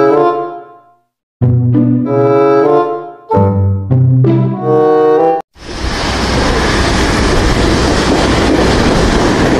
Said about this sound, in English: Oh, this is a train.